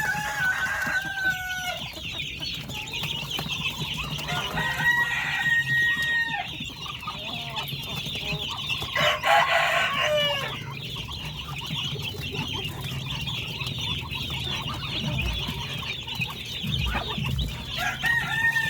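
Chicks and chickens cluck, cheep and squabble continuously at close range while scrambling for scattered wheat, with brief louder squawks mixed into the busy flock noise.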